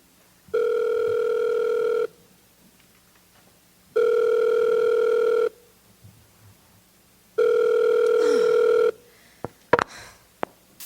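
A phone rings in three long, steady buzzing tones separated by pauses, followed by a few clicks and clatter as the line is picked up.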